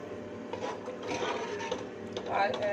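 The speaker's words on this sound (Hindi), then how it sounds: "अब ये मैं पानी इसमें डालने लगी हूँ।" Water is poured into a pot of fried chickpeas while making chana pulao, a steady close rushing, sizzling wash that swells toward the end with no talk over it.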